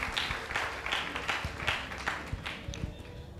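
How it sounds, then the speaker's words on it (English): Applause from an audience at a sales masterclass workshop, a steady wash of clapping lasting a few seconds at moderate volume, with no voices on top. "let's give him a big round of applause for that"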